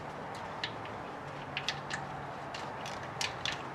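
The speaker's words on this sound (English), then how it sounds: "Got my little Craftsman wrench here" A Craftsman wrench works a bolt on the thermostat housing of a 1982 Ford F150 during an intake install, giving faint, sparse ratcheting clicks and metal creaks over steady low background hum.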